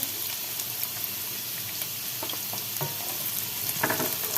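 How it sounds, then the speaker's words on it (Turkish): Almonds fry with browned onions in hot oil, a steady close sizzle with occasional stirring clicks and scrapes of the spoon in the pan, no voices over it. "Şimdi bademlerimi koyuyorum canlarım"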